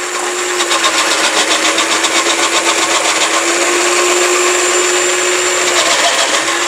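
A food processor shredding potatoes for fried potato bhaji, a loud, steady motor whine held close and continuous throughout, with no talking.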